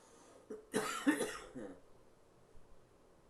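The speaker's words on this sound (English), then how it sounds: "I apologize for the coughing and the hacking. It's chest congestion." A burst of harsh coughing from chest congestion, two or three rough hacks close to the microphone, followed by a quieter throat-clearing rasp.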